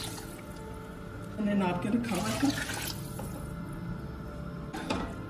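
Water is poured from a measured glass into a cooking pot of potatoes for keema rice, a soft, steady splash heard close up over a low kitchen background, with someone talking over part of it.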